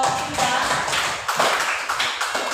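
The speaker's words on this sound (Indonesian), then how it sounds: "tepuk tangan untuk kelompok" Classroom applause for a student group, a dense patter of hand claps and taps filling the room, steady and fairly loud throughout with no talking.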